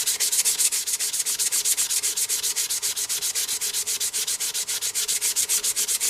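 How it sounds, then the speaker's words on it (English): Steady back-and-forth rubbing of 180 grit sandpaper on a Dolly Rekord doll's leg, a close, continuous scratchy rasp with even strokes and no talking. "And it's easy to sand."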